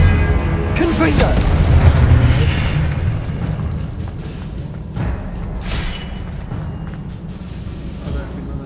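A Confringo fire spell explodes in Hogwarts Legacy gameplay, a heavy booming blast followed by a rumbling roar that gradually settles into lower sustained noise, with a few softer bursts later.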